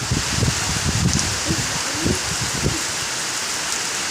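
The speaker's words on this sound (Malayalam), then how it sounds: "ഇതാണ് മഴയുടെ സീൻ." Steady rain hissing outdoors with strong gusts of wind and rustling, a few low bumps against the microphone.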